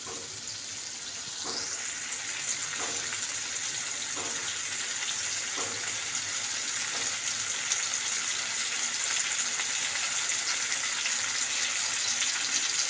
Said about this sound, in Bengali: এটা হচ্ছে আদা রসুনের পেস্ট। এটা একটু কষা হয়ে যায়